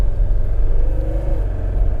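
A Mercedes 300TD diesel car pulls out into traffic, its engine giving a low, loud rumbling drone with a slight rise in pitch as it accelerates, no talking.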